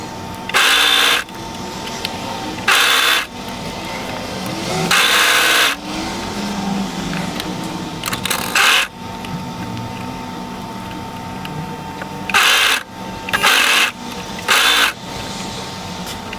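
Sewing machine stitching a bulky sweatshirt collar seam, collar on top and body underneath, in several short bursts of fast mechanical whirring separated by pauses, fairly close and loud with no talking.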